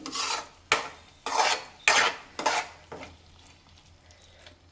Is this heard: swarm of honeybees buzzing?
no